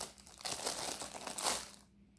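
A plastic packet of Rainbow Friends figures is torn open, with loud, continuous crinkling and crackling for about two seconds, close up, before the noise quickly fades.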